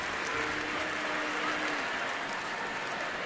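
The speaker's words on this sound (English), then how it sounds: "Crowd still buzzing about what they think they just saw" A baseball stadium crowd at a Phillies–Nationals game murmurs and buzzes in a continuous, fairly faint wash of distant voices and scattered clapping.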